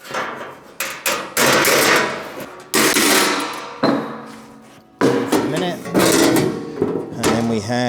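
Hammer blows straightening a Maserati Mistral floor panel on a workbench, several sharp metallic strikes in irregular bursts, with someone talking between and over them.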